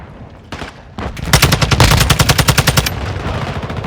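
Rapid automatic gunfire from a TAQ-56 rifle in Call of Duty Modern Warfare II, loud and close, with a few separate shots first and then a long, steady burst of evenly spaced rounds, no speech.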